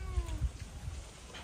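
A cat gives a faint, drawn-out meow with a falling pitch, followed by soft, muffled thumps and low background noise.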